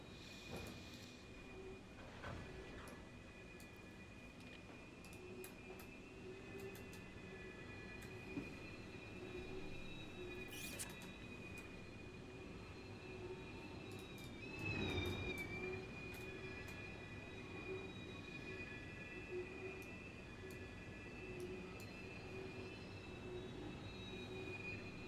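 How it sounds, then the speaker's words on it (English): A New Jersey Transit train rumbles past outside a window as a long, steady, muffled roar. A sustained wheel squeal runs through it and rises briefly midway. "Comes another Jersey Transit train into outside of my window."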